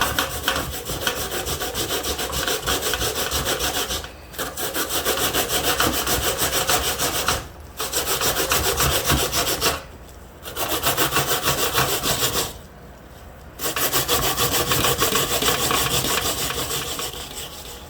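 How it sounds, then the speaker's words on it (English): Sweet potato is grated by hand for Jamaican pudding, a continuous rough scraping rasp in steady strokes with brief pauses between passes, close and loud with no speech. "I'm just gonna grate it. So grate your potato."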